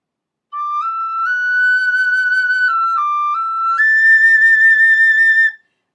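Tin whistle plays a melodic phrase, a smooth run of sustained pure notes rising and dipping before a higher held ending, loud, close and unaccompanied.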